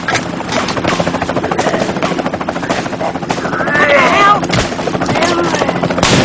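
Loud, steady helicopter rotor thumping fills the scene, with crackling bursts like gunfire mixed in and a few voices shouting underneath.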